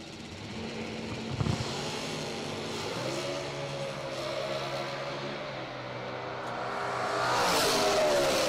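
Loud, steady engine drone of stock and super stock race cars idling and revving at staging, with a swelling roar toward the end and no voices.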